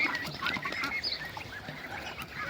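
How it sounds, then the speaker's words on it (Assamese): A dense, steady chorus of high-pitched peeping from a group of ducklings, continuous and fairly close, with no talking. "মোৰ হাঁহৰ পোৱালিখিনি চাওক"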